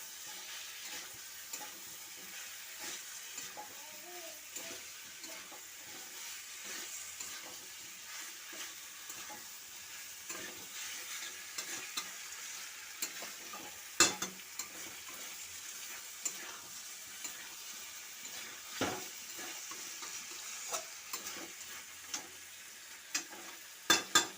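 Already-fried food and boiled potatoes being stir-fried in a pan give a faint, steady sizzle broken by occasional light scraping clicks of a utensil, with no talking.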